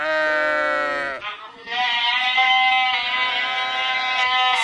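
A goat bleats loudly and close by in two drawn-out, wavering calls separated by a short pause, strongly tonal and nasal.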